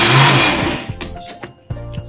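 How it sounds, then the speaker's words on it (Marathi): A blender on pulse mode whips mango ice cream: a loud close whirring burst fades out, followed by clunks and a couple of short motor pulses. "आता हे पल्स मोडवरती आपल्याला फेटून घ्यायचं आहे"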